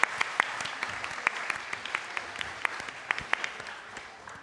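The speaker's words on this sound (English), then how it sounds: "Give her an applause!" A science comedy show audience claps for a contestant, a moderate round of scattered, distinct hand claps that tapers off gradually.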